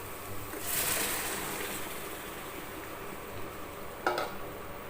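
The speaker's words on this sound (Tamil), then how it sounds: "இப்போ வந்து இந்த தக்காளி வச்சுருக்கோம் இல்லையா அதை ஊற்றிக்கலாம்" Tomato paste hits a hot pan for a Tamil-style thakkali thokku, a broad frying hiss swelling early then settling into a steady sizzle, with a brief sharper burst near the end.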